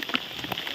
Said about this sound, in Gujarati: ચાલુ વરસાદ છે